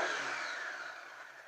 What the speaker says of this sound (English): Let's rev it up a little bit here.